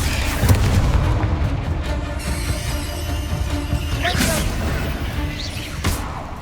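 Repeated booming blasts from Confringo fire spells in the Hogwarts Legacy video game, heavy low rumbling explosions with whooshing bursts near 4 and 6 seconds, loud and continuous over game ambience.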